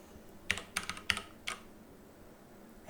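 A short burst of computer keyboard typing enters an issue subject line in the Taiga scrum project tool: a handful of close, distinct keystrokes, then quiet.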